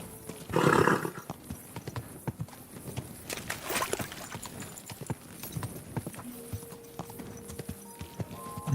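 Horse hooves clip-clopping in a medieval role-playing video game, Kingdom Come Deliverance II: a steady, moderately close trotting rhythm, briefly overlaid by a louder snort or whoosh near the start.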